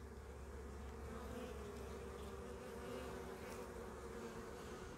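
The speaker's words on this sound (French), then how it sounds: "observer les abeilles entrer et sortir" Honeybees at the entrance of a hive, a steady, dense buzzing hum from many insects coming and going, close and continuous with no talk.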